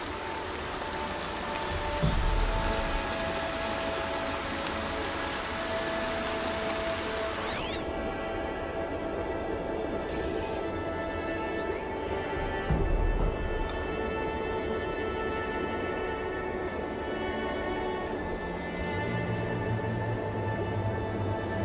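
Steady rain falls in Horizon Zero Dawn, a constant even hiss of drops on surfaces lasting the whole stretch, moderately loud, with faint music and occasional soft thumps beneath it.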